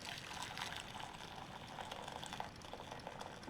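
Hot water poured from a measuring cup into a gelli plate mixture, a steady close splashing trickle with a broad hiss lasting the whole moment, no talk over it.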